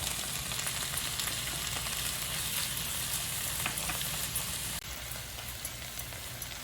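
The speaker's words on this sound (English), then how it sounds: "This is the time when I add chopped tomatoes and tamarind pulp." Chopped tomatoes and tamarind pulp frying with translucent onions in a pan for a Rayalaseema-style peanut chutney, a steady faint sizzle with crackle throughout and a slight drop in level partway.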